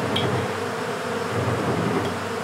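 Honey bees buzz steadily around a room where honey is being spun in an extractor, a dense continuous hum with a few individual bees passing close; no one speaks.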